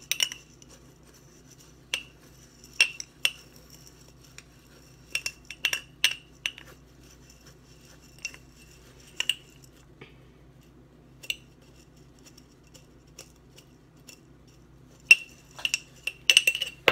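A spoon stirs overnight oats, giving sparse, scattered clinks and scrapes against the container with quiet gaps between them.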